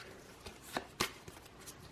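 Cards from a board game, sorted into food, wood, stone and ore decks, are shuffled in a few quick riffling bursts. The strongest one lands near the middle of the clip, and no one speaks.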